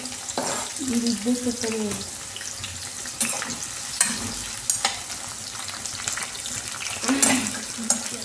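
Sliced onions and green chillies hit hot oil in a pan for a chicken fry, crackling and hissing with watery splashes, occasional clinks, and brief faint voice sounds in the background.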